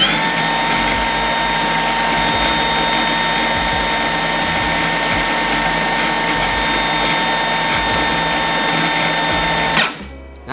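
A Nagawa BCS180U brushless cordless circular saw runs steadily at full speed with no load, giving a loud, continuous high whine and motor drone that holds evenly for about ten seconds before spinning down abruptly.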